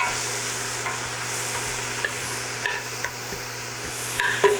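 Carrot and vegetables cooking in a soup pot over moderate heat, a steady low sizzle with occasional light stirring knocks, close and alone.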